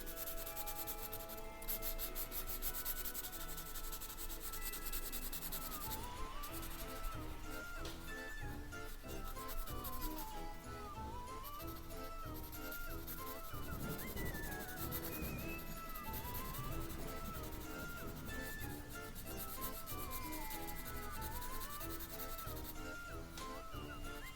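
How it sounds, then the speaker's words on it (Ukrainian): A dark yellow pencil colours in a drawing with continuous, quiet, close scratchy rubbing that keeps an even rhythm and has no talking over it. "Беремо тепер темний жовтий, жовтий і зафарбовуємо."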